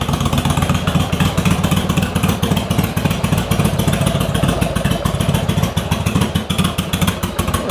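A motorcycle engine runs close by with a loud, fast, even chugging pulse and mechanical clatter, holding steady throughout without voices.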